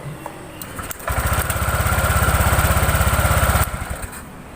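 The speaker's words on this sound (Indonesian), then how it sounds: "Kita tes, kita starter." A Honda Vario 125 scooter engine cranks and catches after a brief click, then runs with a steady, rapid putter for about two and a half seconds before cutting off, loud and close with no talking.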